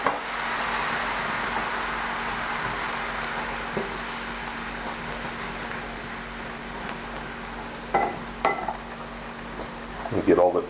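A utensil scrapes browned fond off the bottom of a pan as white wine deglazes a pork daube filling with bay leaves. Soft sizzling runs under the scraping, with a few sharper clinks near the end, while a person talks.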